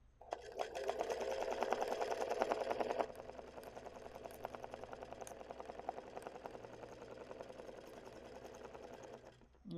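A sewing machine free-motion stitches embroidered letters in a continuous, close, rapid stitching hum, louder for the first few seconds and then settling to a steadier, softer run until it stops.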